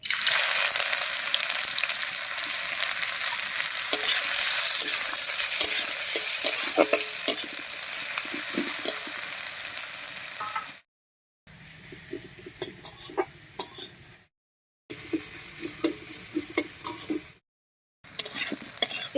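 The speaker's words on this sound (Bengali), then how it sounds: "তেল গরম হয়ে গেছে তেলের মধ্যে দেবো পেঁয়াজ কুচি" Chopped onions frying in hot mustard oil in a wok, a loud close sizzle that settles into crackling with a few utensil clinks, then cut into short segments separated by brief silences.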